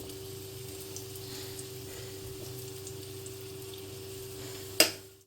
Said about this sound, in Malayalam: ചൂടായ ഓയിലിലേക്ക് ഞാനിത് ഇട്ട് കൊടുക്കുകയാണേ നമുക്ക് ഡീപ്പ് ഫ്രൈഡ് ആവശ്യമില്ല തവ ഫ്രൈഡ് ആവശ്യം മാത്രമേ ഉള്ളൂ